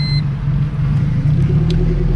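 A turbocharged B16A engine swapped into an EK Civic idles close by, a loud, steady, low rumble with a slight pulsing throb and no talk.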